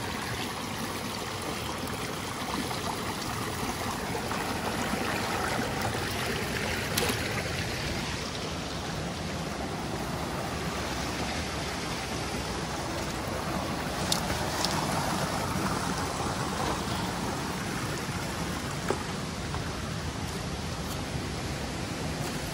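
A river rushes steadily, a broad, constant roar of flowing water filling the whole clip without pause.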